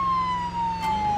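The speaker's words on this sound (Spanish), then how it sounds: "Arranca la sirena ya" A police car siren wails steadily in BeamNG.drive, a loud, sustained electronic tone with a slowly falling pitch, heard alone over a low engine hum.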